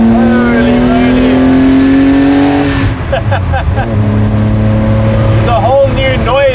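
A Porsche-engined, all-wheel-drive VW Kombi revs loudly up toward 6,000 RPM, its engine note climbing steadily, then dropping briefly at a gear change before pulling hard again, with a person talking over the engine.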